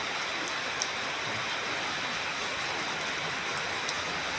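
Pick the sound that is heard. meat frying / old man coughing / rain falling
rain falling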